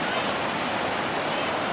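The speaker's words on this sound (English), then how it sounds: "Oh, and here comes the tide." Ocean surf washing in on the beach at Long Beach, Washington during clam digging: a dense, steady roar of rushing water, loud and continuous with no breaks.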